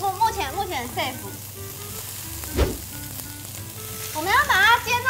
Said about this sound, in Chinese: 我们要把它煎到就是每一面都上色，上焦焦的颜色，但是我们中间不能熟哦。